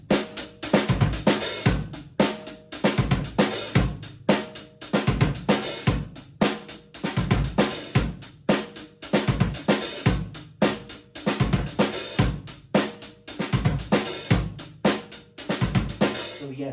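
A simple, steady drum beat from a track loops continuously with crisp hi-hats and regular kick and snare hits, loud and close, with no talking over it.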